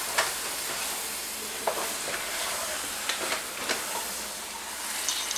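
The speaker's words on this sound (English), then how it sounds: "and then simmer some more. We're going to make sure we mix that." A sauce with crushed garlic simmers in a pan while it is stirred, making a continuous bubbling hiss broken by scattered clicks and scrapes of the spoon, close by with no talking.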